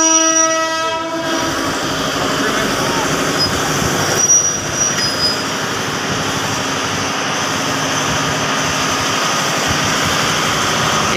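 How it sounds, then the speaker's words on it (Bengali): A train being moved backwards at Narayanganj railway station in Bangladesh, with a loud horn blast at the start, then a continuous rumble and rolling rail noise close by, and faint voices in the background. "রাস্তা থেকে ট্রেনটিকে পেছনের দিকে নিয়ে আসা হয়েছে"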